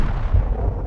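A grenade from an M79 launcher explodes in Max Payne on the PS2, a close, loud low boom with a deep rumbling decay lasting under a second.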